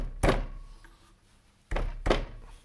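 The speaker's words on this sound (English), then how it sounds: "I'm gonna get a hammer to knock that down." A hammer knocking a 3D printed Japanese torii gate piece into place gives three sharp, close thunks, one then a pause and two in quick succession, with no talk.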